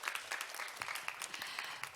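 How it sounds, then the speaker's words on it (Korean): Applause from a seated audience at a Korean training-evaluation coaching case-sharing session: a moderate patter of many hands, with individual claps standing out, continuing steadily with no speech. "큰 박수 보내주시기 바랍니다."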